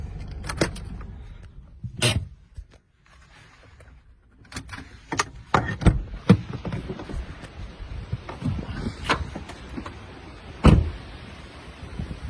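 Doors of a car open and slam shut as people climb out on a farm track beside a wood, with several sharp thuds and clunks spread over the span and rustling, footsteps and faint outdoor ambience between them.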